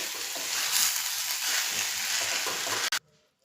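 Boiled green corn kernels are stirred in a hot pan with a crackling sizzle and spatula scrapes that cut off abruptly near the end.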